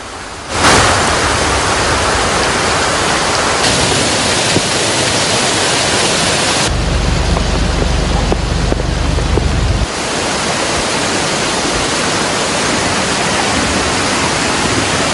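Heavy monsoon rain pours over flooded streets in Agalawatta, Kalutara, Sri Lanka, a steady dense roar of water and wind-like noise that holds loud and unbroken throughout, with a deeper rumble in the middle.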